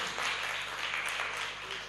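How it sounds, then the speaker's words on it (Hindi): An audience applauds children at a Jain religious discourse in India, a steady soft patter of many hands clapping at a distance throughout. "तालियां बजाओ बच्चों के लिए।"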